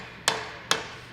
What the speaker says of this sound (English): using a plastic hammer there